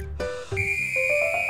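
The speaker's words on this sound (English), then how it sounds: "A whistle!" A toy whistle is blown in a few short, shrill toots, close and fairly loud, in a quiet room with no talk.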